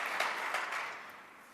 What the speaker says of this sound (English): another great round of applause and congratulations for making it